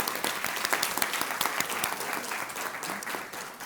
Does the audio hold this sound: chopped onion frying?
no